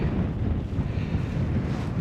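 Loud, continuous wind buffeting the microphone at Abraham Lake in winter, blowing snow across the ice, a dense low rumble with gusty surges throughout and no voices.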